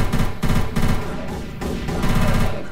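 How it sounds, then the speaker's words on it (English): Rapid automatic gunfire in the Left 4 Dead 2 video game, loud sustained bursts of shots in quick succession with brief gaps between volleys. "Shooting each other."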